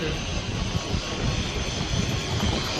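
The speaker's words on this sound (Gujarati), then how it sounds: "પાછું હું લોક ટાળ કરું ત્યારે વિમાન આવી જાય જો પાછું આવી ગયું છે." A propeller airplane drones overhead near a beach, a steady, broad engine hum holding at moderate loudness throughout.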